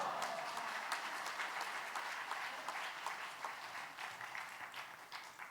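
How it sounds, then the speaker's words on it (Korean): A church congregation at a Korean men's fellowship dedication worship service claps to welcome the pastor, a dense, even wash of applause that fills the room and tapers slightly toward the end. "목사님을 박수로 환영하시겠습니다"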